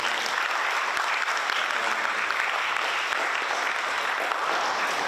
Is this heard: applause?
yes